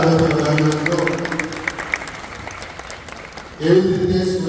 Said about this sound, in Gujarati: જોરદાર તાળીઓથી વધાવીએ મિત્રો.